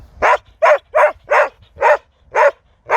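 A dog barks repeatedly at close range, seven sharp barks in a quick, even rhythm.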